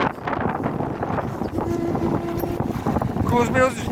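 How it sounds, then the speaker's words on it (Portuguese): Strong wind buffets the microphone in a steady low roar, with a voice speaking over it. "Tá muito vento, tá ventando."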